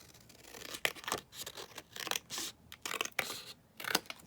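Scissors trimming paper for a Christmas junk journal, giving several crisp snips and slicing strokes at an uneven pace. The cuts are close and quiet, with no voices.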